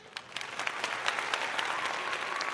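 A crowd bursting into applause, dense clapping that builds within the first second and holds steady, close and lively.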